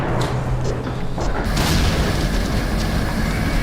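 A film's C4 explosion rumbles as a deep, sustained boom, loud and dense, with a heavy low roar and scattered crackling bursts that swell after the first second.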